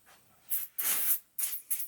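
Four short hissing bursts of foaming aerosol cleaning spray on a mini-excavator, the second longest, with brief pauses between them.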